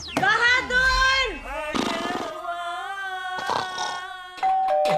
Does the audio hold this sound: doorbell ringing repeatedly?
yes